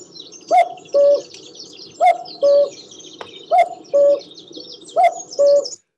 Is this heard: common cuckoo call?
yes